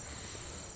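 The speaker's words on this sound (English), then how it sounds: "Hear the crickets chirping here" Crickets chirp steadily by a lake at night, a faint, continuous high trill with a soft ambient background.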